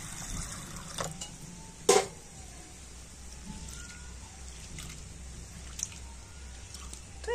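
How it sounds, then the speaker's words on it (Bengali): Sago pearls rinsed with water in a bowl, giving a quiet, continuous wet swishing and trickle with one brief clink of a container partway through. "আর এবার আমি সাবুদানাটা জল দিয়ে একটু ধুয়ে নেব।"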